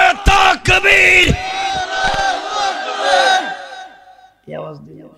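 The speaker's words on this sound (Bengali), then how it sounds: "হাত উঠান সবাই, আওয়াজ করে পড়েন লিল্লাহে তাকবীর, জোরে বলেন নারায়ে তাকবীর।" A large crowd at a Bengali religious waz gathering shouts the chant Nara-e-Takbir. Two or three sharp bursts of loud massed shouting lead into a long, swelling chorus that fades out, followed by a brief, quieter voice.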